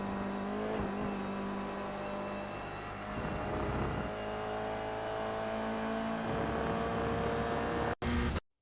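A Toyota GR86 racing around Laguna Seca in iRacing, its engine holding a loud, steady drone that rises and shifts pitch under throttle before cutting out abruptly near the end.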